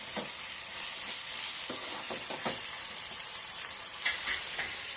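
Two large onions frying in a pan until golden, a steady close sizzle with scattered crackles and a few stirring scrapes, a sharper clatter just after four seconds.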